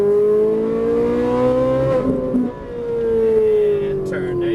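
A Ferrari 458 Italia engine droning on a track, a strong tonal note that rises steadily, dips briefly as throttle comes off, then builds again, heard from inside the car under spoken instruction.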